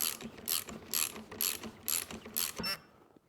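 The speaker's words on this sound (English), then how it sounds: "now I can tighten this down without fear of damaging my internal pieces" A ratchet tightens the shock mount nut on a 2006–2010 Kia Optima strut, making six evenly spaced, crisp clicking pulls up close before stopping, with no voices.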